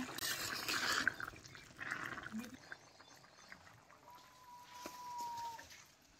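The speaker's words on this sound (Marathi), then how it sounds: "आता डाळ कांडायला कशी खळखळ उकळी आल्या बघा." Dal with onion bubbles in a pot over a wood-fired stove. The boiling is soft and uneven, with light liquid churning and drips that fade after the first few seconds, and a faint tone lingers in the background.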